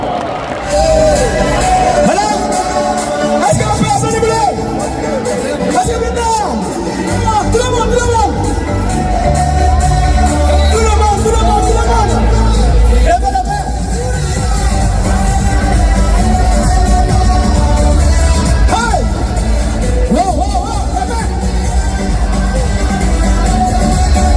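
A crowd at a vehicle handover ceremony in Burkina Faso cheers and acclaims loudly and continuously, with amplified speech and shouting mixed into the roar.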